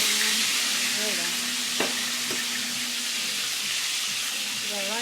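A pork chop fries in a pan with a steady broadband sizzle throughout, a couple of brief clicks from the pan mid-way and faint tonal background sounds.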